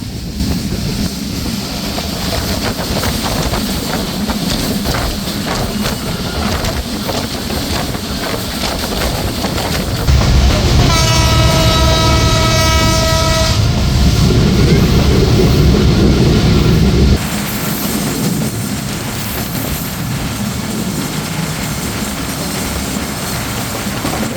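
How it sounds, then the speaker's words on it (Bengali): Barendra Express intercity train running through Raninagar railway station, a steady rumbling rail roar with a brief high tonal whine and louder rush in the middle, wind buffeting throughout. "ট্রেনটি এই মুহূর্তে থ্রুপাস করে যাচ্ছে বেশ জনপ্রিয় একটি স্টেশন রানীনগর রেলওয়ে স্টেশন"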